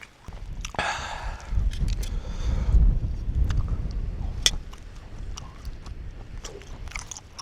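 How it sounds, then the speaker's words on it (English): Strong wind buffets a mountain campsite at dusk, a steady heavy roar with gusts and scattered knocks and rustles close by. "It's just too windy."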